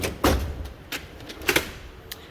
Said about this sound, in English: So I'll move on to the next drawer.